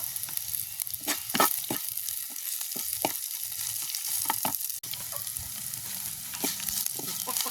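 Curry leaves, fenugreek and spices frying in a pan, with bursts of sharp crackling sizzle and spattering pops over a low steady hiss, close and fairly loud.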